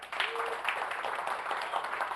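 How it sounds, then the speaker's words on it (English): Dense, steady clapping from a crowd fills the whole stretch, a continuous patter of many hands at moderate loudness. "actually forget hands, you're gonna clap"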